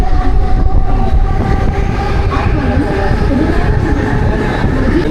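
A packed Mumbai local train runs at speed, giving a loud, continuous rumble and rattle of carriages with faint wheel clatter. Voices can be heard under the noise.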